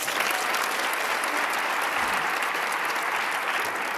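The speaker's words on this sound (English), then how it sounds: "Let's give her another round of applause" Audience at a women's forum applauding a lieutenant governor, a dense, even roar of many hands clapping that holds steady throughout.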